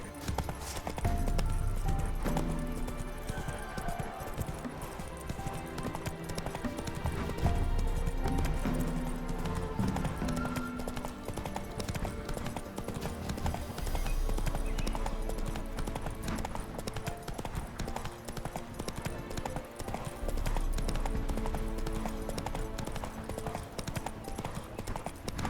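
Roach the horse gallops in The Witcher 3, steady rhythmic hoofbeats clopping throughout over a dense game soundscape with music, and brief speech now and then.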